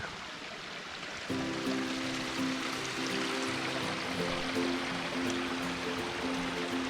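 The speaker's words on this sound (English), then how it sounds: "this creek flows right down beside the iron furnace that we just passed" A creek in Cumberland Gap National Park flowing beside an old iron furnace, a steady broadband rush of moving water, with a tonal hum joining after about a second.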